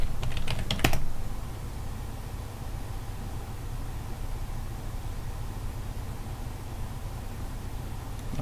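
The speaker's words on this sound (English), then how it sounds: "Let's type in Dulles." Someone types on a computer keyboard: a short quick burst of clicking keystrokes near the start, followed by a long steady low hum with no further typing.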